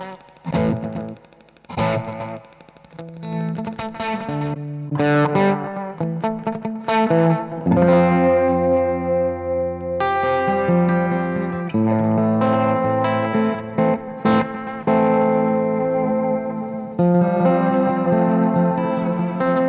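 Electric guitar played through chained tape echo effect units, giving dense, distorted chords and single notes smeared by repeating echoes and a chorus-like wobble, loud and continuous for about twenty seconds with no talking.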